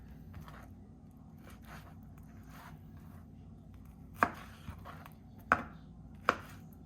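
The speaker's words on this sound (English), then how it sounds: "I like cutting mine in cubes, it just adds a lot of texture." A knife cuts raw fish into cubes for a poke bowl. It lands with three sharp, distinct chops against a board over a low, steady room hum, with softer cutting sounds before them.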